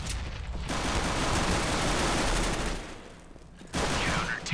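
A sustained spray of automatic gunfire in the video game CS GO, a dense rattling burst lasting several seconds that briefly drops off and then resumes, close and loud with no talk over it.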